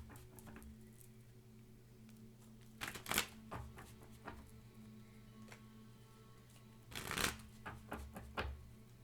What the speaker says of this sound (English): They're telling me to shuffle.